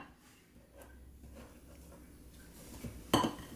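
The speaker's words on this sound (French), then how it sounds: "Je récupère une assiette." A plate picked up while assembling a cake, a single clear ceramic clink near the end after quiet kitchen background, close and fairly loud, no talking.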